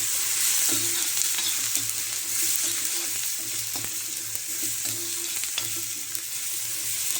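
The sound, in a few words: onions frying with turmeric in an iron pan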